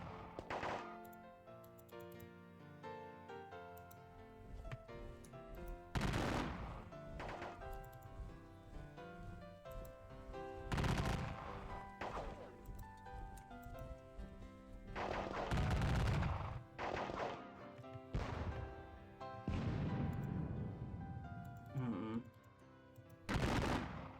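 Repeated bursts of musket and cannon gunfire in a wargame of the Battle of Gettysburg, sharp loud blasts scattered over a continuous rumbling battle backdrop, with heavy volleys recurring every few seconds.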